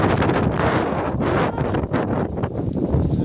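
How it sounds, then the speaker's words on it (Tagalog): Strong wind buffets the microphone in continuous rumbling gusts, loud and close, with no voices. "Hangin po eh."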